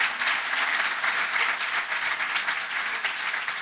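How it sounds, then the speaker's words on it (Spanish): A church congregation claps together in a dense, even burst of applause, sustained and full with no pauses, the crowd filling the room. "¿Puedes darle un aplauso al Señor por eso?"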